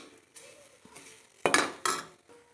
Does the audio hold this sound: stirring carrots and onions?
yes